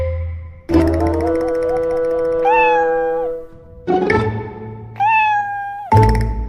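A cat meows loudly several times in drawn-out, rising and falling calls with short pauses between them, close and clear, with no other sounds around it.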